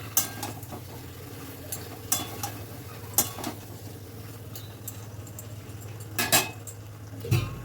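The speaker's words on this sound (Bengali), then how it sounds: "সব কিছু ভালো করে মিশিয়ে নেব।" Fried potatoes and vegetables are stirred in a pan, with scattered metallic clinks and scrapes of a spoon against the pan over a steady low background hum, and no talk.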